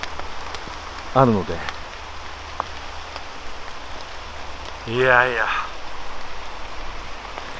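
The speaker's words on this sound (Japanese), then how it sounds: "歓迎の雨です。" Rain falls steadily in Kaguraoka Park, a soft continuous patter on leaves and ground beneath two short bursts of talk.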